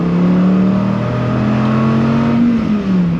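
A Dodge Viper ACR's engine pulls hard on throttle, a loud, close, steady drone whose pitch climbs gradually then drops off near the end, heard alone without talk.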